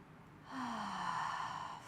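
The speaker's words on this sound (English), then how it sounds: "Go for a couple of cleansing breaths. Take a deep inhale." A deep, slow cleansing breath during a prenatal yoga session, starting after a brief quiet moment and carrying on as a soft, steady airy rush close to the microphone with no talking.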